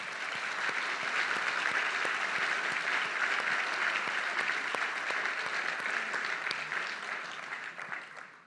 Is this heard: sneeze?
no